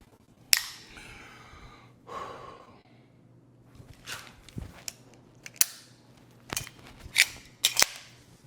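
Sharp metallic clicks and clacks from pistol dry fire practice for USPSA competition shooting, with magazines dropping free, arriving as scattered isolated snaps over a quiet background with low hum, a few close together near the end.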